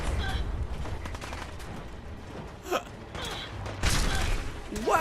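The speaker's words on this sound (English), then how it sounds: "Fire at will. Blast them with everything we've got." Cannons firing in the Fallout 4 video game, several sharp blasts spread irregularly across the clip over a low rumbling game background.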